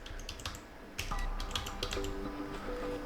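Keys pressed on an HP EliteBook 846 laptop keyboard while a PIN is entered, a short run of soft, close keystrokes and clicks against a faint steady background hum.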